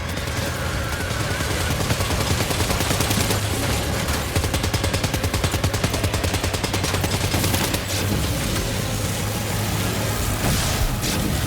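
Gunfire in Death Stranding 2 rattles in fast, continuous automatic bursts, loud and close, layered with heavy mechanical noise and no voices on top.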